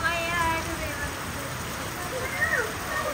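Rain falls steadily across a green farm garden, a soft continuous patter with faint voices murmuring beneath it.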